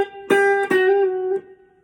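An electric or acoustic guitar strikes a song's riff, two sharp strummed chord hits followed by a sustained ringing note that fades, close and alone.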